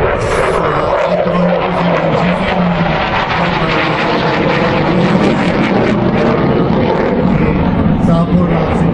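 An F-16 fighter jet roars continuously through an aerobatic display, loud and sustained with a broad engine rumble, while a commentator speaks over it.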